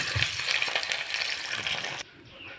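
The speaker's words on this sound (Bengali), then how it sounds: "তেল গরম হয়ে গেছে, এখন ডিম দিয়ে দিলাম ভাইজা না" Eggs fry in hot oil in a wok with a loud, steady, close sizzle that cuts off abruptly near the end, leaving only a faint hiss.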